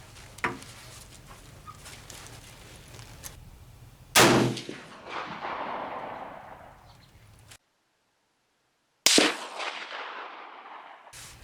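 Two loud, sharp gunshots ring out at an outdoor shooting range, a few seconds apart, each followed by a long ringing decay over faint background hiss, close and alone, without talk.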